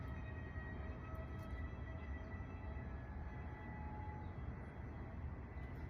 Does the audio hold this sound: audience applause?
no